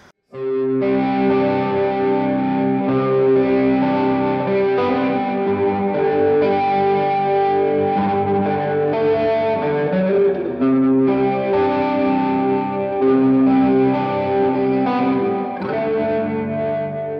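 An electric guitar through a Tube Screamer overdrive pedal plays a sustained, warmly distorted lead line with held notes and bends, loud and continuous throughout.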